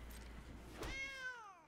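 Cats meow in an MTG Arena video game, a single clear synthetic meow rising and falling in pitch near the end after a soft build of game sound, close and moderately loud with no talk.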